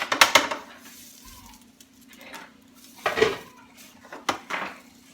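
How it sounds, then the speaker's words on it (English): Crispy fried meat is dumped and scraped into a pot of pinto beans, giving a few clinking metal utensil knocks and scrapes against cookware, close and moderately loud with quiet gaps between. "we're just going to dump this right inside of our beans"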